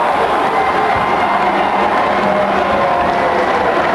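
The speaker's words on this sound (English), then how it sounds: "And that gets a rise out of the Pallotti crowd" A high school basketball crowd at a 1998 WCAC championship game between DeMatha and Pallotti swells into a loud, sustained roar of cheering that fills the gym steadily throughout.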